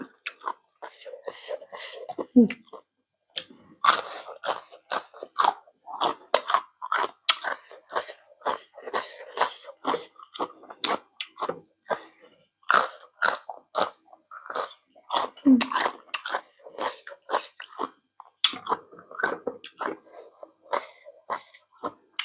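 Crunchy apple snails eaten with a spicy seafood dipping sauce, bitten and chewed close up in a rapid, irregular series of crisp crunches and wet chewing sounds across the whole stretch, with occasional quiet breaths.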